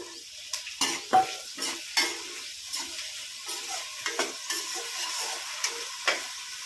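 Finely chopped onion and potatoes fry in a pan with a soft steady sizzle, punctuated by sharp, irregular scrapes of a stirring spoon, close by and without talk.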